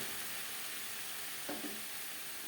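Pea shoot greens sizzle steadily in a pan over a high-to-medium gas flame, with a brief scrape of stirring midway through.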